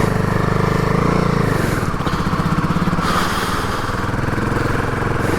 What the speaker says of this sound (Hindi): यहाँ पे देखिए ऑफ रोडिंग का पैच काफ़ी ज़्यादा अग्रेसिव है।